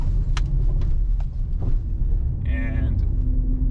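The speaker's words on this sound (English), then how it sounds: "Full throttle, I don't think it will shift into 2nd." A 2021 GMC Canyon AT4 engine pulls at full throttle in first gear while climbing an off-road slope, a loud low rumble under a person talking.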